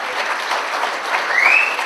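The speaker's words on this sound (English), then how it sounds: "Can we have a round of applause for that?" Audience applause at a radio station launch night fills the room, dense and sustained at close range, with a brief high whistle or cheer rising near the end.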